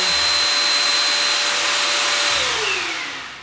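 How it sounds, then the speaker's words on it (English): A vacuum cleaner drones steadily with a broad airy roar and a faint whine, then its pitch and volume drop as it winds down near the end. "Dad's vacuuming again, I think."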